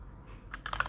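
Typing on a Keychron K2 mechanical keyboard with brown switches, a quiet cluster of several close, soft clacking keystrokes in the last half second, alone with no talk.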